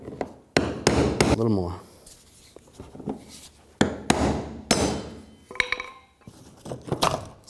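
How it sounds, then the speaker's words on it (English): Sharp metallic hammer blows on a brass punch ring out in uneven bursts, close by, loosening the fuel pump on a GMC Acadia, with a brief spoken remark between strikes. "Then use a hammer"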